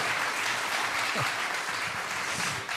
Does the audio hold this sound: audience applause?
yes